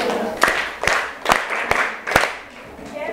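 A classroom of students claps for a classmate with about five sharp, evenly spaced claps in unison, close and fairly loud, with some voices underneath.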